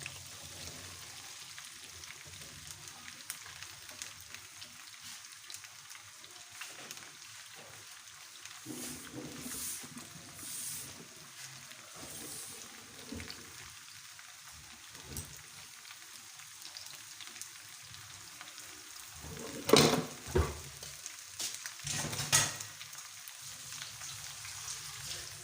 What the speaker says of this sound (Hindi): अब ये गर्म हो चुका है, अब हम इसके अंदर भिंडी डालेंगे।